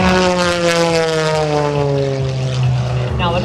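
A carbon fiber MX-2 aerobatic plane passes overhead at an air show open house, its propeller engine a loud, sustained drone with a slowly falling pitch as it moves by.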